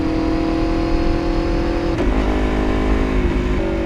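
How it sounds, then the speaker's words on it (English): A motorcycle engine droning steadily while riding, loud and close with a constant hum, then a gear change and slight shift in pitch partway through, wind noise underneath. "let me know in the comments how you like the sound of this bike too"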